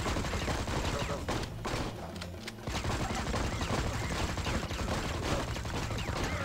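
Sustained bursts of video game gunfire from The Man From U.N.C.L.E. Mission Berlin, dense and continuous with a brief dip around the middle, loud and steady throughout.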